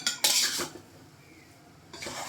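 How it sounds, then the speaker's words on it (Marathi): A spoon stirs and scrapes sanja, a semolina dish, in a metal pan, with two bursts of close, bright scraping separated by a quiet pause and no talking. "परत एकदा हलवून घ्यायचं आहे."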